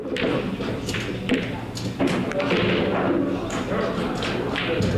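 On a pool table during a league match, a break shot sends the racked balls clacking and scattering in a quick burst of knocks and thuds, with people talking throughout.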